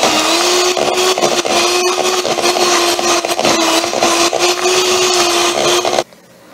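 An electric mixer whirs steadily at a constant pitch while beating cream cheese into cupcake batter, loud and close for about six seconds before switching off abruptly.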